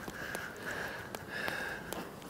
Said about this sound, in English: you can hear him blowing his nose